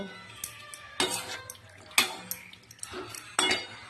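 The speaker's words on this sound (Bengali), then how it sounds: "যতক্ষণ না মশলা থেকে ছেড়ে আসছে ততক্ষণ কিন্তু আমি নেড়ে চেড়ে কষিয়ে যাব" Spoon scraping and clinking in a cooking pan while masala for Kashmiri aloo dum with peas is stirred and sautéed, with a few distinct strokes at roughly one-second intervals over a low background, no talking.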